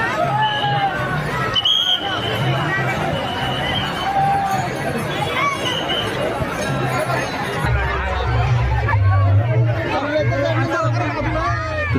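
A dense crowd at a Pandharpur dindi procession carrying Tukaram Maharaj's palkhi in Hadapsar, Pune, with a continuous murmur of many voices, scattered shouts and close chatter, and a low rumble swelling toward the end.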